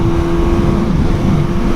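A Suzuki GSX-S 750 motorcycle fitted with a Translogic quickshifter hesitates on the throttle, its engine a close, loud, steady droning hum with a rough, uneven low rumble on an open road.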